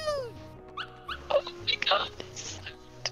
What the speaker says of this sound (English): Look at that little puppy.